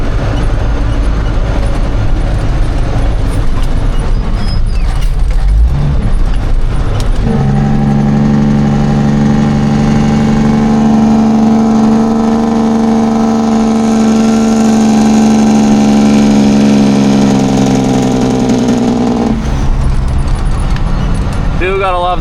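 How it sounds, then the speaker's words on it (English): Truck with an N14 Cummins red top engine using its Jake brake, a loud sustained low rumbling drone that builds after a few seconds, holds steadily for about twelve seconds, then cuts off. "Gotta love the Jake brake on a N14 Cummins red top."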